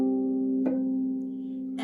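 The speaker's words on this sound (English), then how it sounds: "We have a bell-like sound called harmonics." A single harp harmonic rings as a pure, bell-like sustained tone that decays slowly, with a soft pluck midway and another at the end, quiet and alone.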